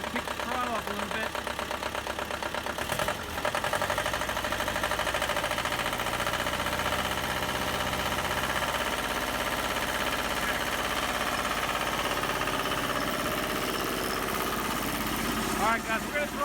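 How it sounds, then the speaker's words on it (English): The engine of an RC812 double roller crusher drones steadily and loudly, its pitch shifting as the throttle rises, with a brief thump partway through. "Okay, Ronnie, go ahead and kick the throttle up a little bit."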